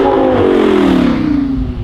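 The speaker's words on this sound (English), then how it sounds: "The car sounds absolutely insane." A sports car roars past at speed during a filming day, its loud engine note falling steadily in pitch as it sweeps by close to the microphone, with no talk over it.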